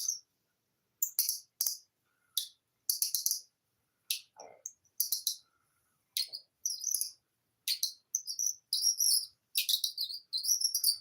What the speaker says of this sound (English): this is a bird call